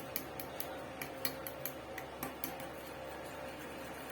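A spoon beats a thick hair-care mixture in a bowl like whisking eggs, giving a quiet run of light, evenly spaced clicks and taps against the bowl, close by with no talk.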